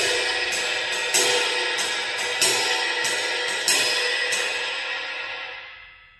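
Jazz ride cymbal played in a swing pattern with accents on the downbeats, a bright shimmering wash with three stronger strikes roughly every 1.3 seconds, close and alone, then ringing out and fading.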